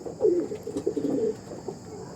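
Pigeons of Andhra, Arshad and Chennai breeds coo in low, rolling calls, several soft repeated phrases close by, with no talk.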